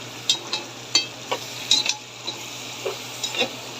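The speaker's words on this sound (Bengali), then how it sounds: "সাদা জিরা দিচ্ছি, জিরা দিচ্ছি, তেজপাতা দিচ্ছি।" Cumin seeds, star anise and bay leaves sizzle in hot oil in a home kitchen, a soft steady fry broken by several light clinks and scrapes of a stirring spoon against the pan, with no talk.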